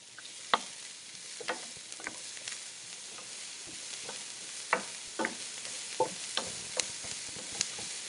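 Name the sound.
sauteing onion and mushroom in olive oil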